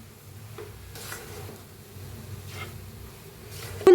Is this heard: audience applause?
no